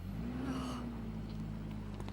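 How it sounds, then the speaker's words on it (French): A car engine hums steadily as the vehicle pulls in, a low droning tone with a slight rise and fall, moderately close and continuous. "C'est la voiture de Sarah?"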